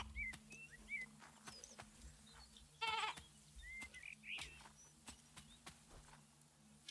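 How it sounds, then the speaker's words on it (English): A sheep-like bleat from a kangaroo in the PC game Boundless sounds once amid quiet game ambience, with faint chirps and soft scattered clicks around it. "That is a kangaroo that sounds like a sheep."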